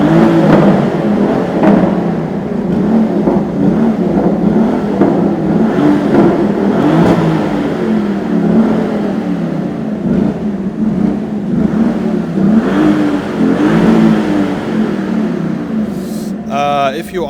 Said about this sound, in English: if you switch it to Corsa, listen. Yeah, then the exhaust is fully on and then we can start revving the car.